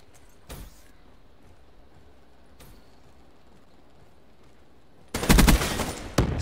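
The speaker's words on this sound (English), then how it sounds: "All I can hear is gunfire." Automatic gunfire in the first-person shooter Black Ops 3: two short isolated bursts early, then a loud, dense rattle of rapid shots near the end after a quiet stretch.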